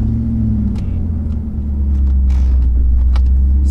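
A Jeep Grand Cherokee with a 4.7 V8 engine drones steadily while driving, a deep, loud rumble heard from inside the cabin, with a few faint knocks and road noise over it.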